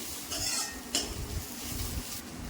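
A spoon scrapes and clinks against a pan while stirring a curry with green chillies and curry leaves frying in oil, with a few close, brief scraping strokes over a soft sizzle.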